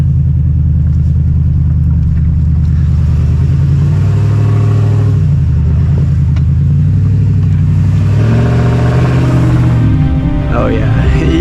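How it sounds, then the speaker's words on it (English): A truck engine labours and revs in four-wheel drive on soft forest ground, a loud, close, rumbling drone that rises and falls throughout, with a voice mixed in. "Let's throw her in 4-wheel drive."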